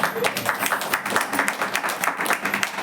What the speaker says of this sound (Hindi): आइए कन्हैया लाल जी के लिए ताली बजता है एक बार